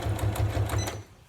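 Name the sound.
sewing machine sewing fabric storage caddy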